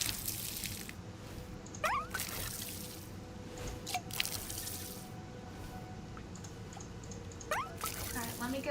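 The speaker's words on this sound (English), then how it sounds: "I can do some watering." Watering plants in Wanderstop: soft repeated splashes and trickles of water, interrupted by a few brief sharp chimes, over a quiet ambient bed.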